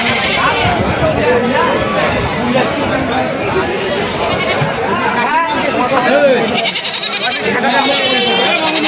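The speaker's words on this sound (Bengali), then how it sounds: "আপনার এটা কি খাসি দুটাই খাসি" Castrated male goats bleat among sheep at a crowded rural livestock market in Kaharol, Dinajpur, with loud, repeated cries close by under constant talk and crowd chatter.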